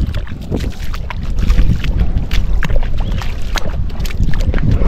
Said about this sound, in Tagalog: Kaya lang oh, malakas ang hangin.